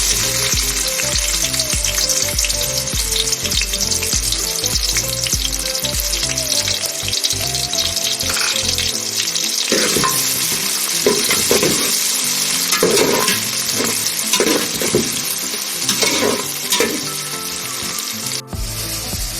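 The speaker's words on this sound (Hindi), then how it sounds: "अब हम इसमें ऑनियन डालेंगे जो हमने काट के रखा है" Loud, steady sizzling of chopped onions frying in hot oil, with occasional stirring scrapes throughout; no voices.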